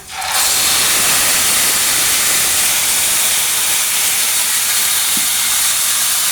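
Taro leaves hit a hot pan and a loud, steady frying sizzle bursts up, hissing continuously without a pause.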